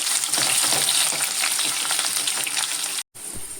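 Chopped ginger and garlic frying in hot oil with mustard seeds, a loud close sizzle with crackling pops and stirring, briefly cut off near the end before resuming.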